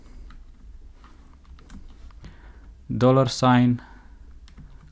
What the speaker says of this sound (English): I'm gonna type